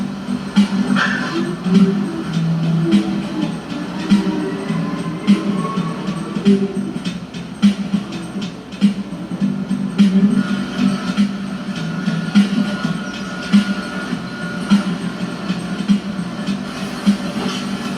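Machinery running in a lemon packing plant, a steady loud mechanical drone with a low hum and rhythmic clattering, continuous and unbroken throughout.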